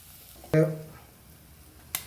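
A single brief clatter of a utensil stirring vegetables with grated coconut in a frying pan, with a short sizzling burst, then quiet and a faint click near the end.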